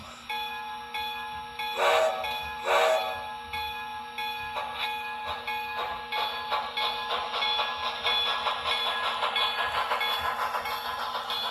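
HO scale Broadway Limited Imports Paragon 1 Pennsylvania RR M1b model steam locomotive running around a layout, with two loud whistle-like blasts early on, then a steady rhythmic chuffing with a constant tonal hum, close and clear with no talking.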